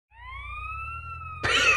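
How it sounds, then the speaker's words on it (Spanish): A wailing ambulance siren in GTA San Andreas, a steady rising tone held loud and close, then swelling into a harsher, noisier blast toward the end. "Está muy bullera la ambulancia"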